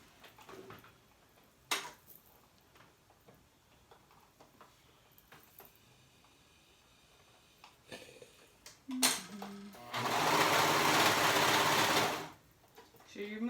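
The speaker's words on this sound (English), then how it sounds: "I'm going to go all the way down and sew it on right sides together at that edge" A sewing machine stitches a seam on a baby romper in one steady, whirring run of about two seconds, close and clear, preceded by quiet handling clicks and a person talking softly.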